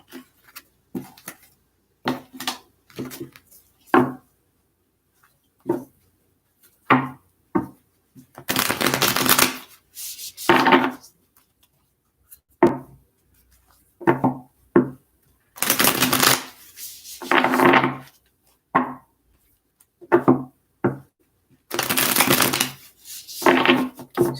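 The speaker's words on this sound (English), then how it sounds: "Just a couple more shuffles here for Capricorns." Tarot cards being shuffled by hand, repeated crisp bursts of riffling and flicking in short bouts separated by pauses, close and clear with little else around them.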